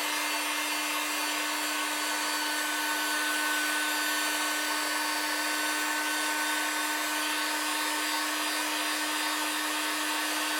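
A hot air gun switched on and heating until the material starts melting, giving a steady loud blowing roar with a fixed whine, constant throughout and with no talk.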